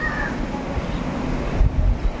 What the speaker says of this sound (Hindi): जोर वर्षा आइलानी बिजुली